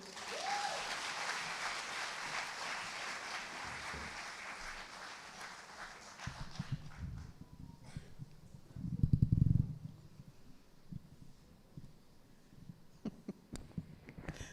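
Fairly distant audience applause fills an International Women's Day celebration hall, a steady wash of clapping that gradually thins out and fades, followed by low rumbling and hum.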